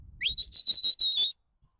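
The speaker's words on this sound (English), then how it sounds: "that's just reaffirming the whistle commands and things, getting them used to them" A shepherd blows a sheepdog training whistle command for a border collie: a rising shrill note followed by five quick sharp bursts in a rhythmic series, loud and close, then silence.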